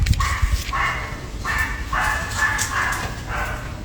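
Several dogs bark repeatedly in bursts at moderate distance, steady and insistent, with a low background rumble underneath and no talking.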